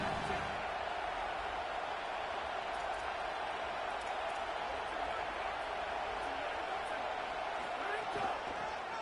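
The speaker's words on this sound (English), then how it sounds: "The Buckeye crowd alive on third down." A Buckeye football stadium crowd roars and cheers on third down, a dense, sustained wall of noise from thousands of fans that holds steady throughout without letting up.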